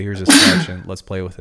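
Someone talks, then a single sharp, loud sneeze bursts out, and the talk resumes right after it.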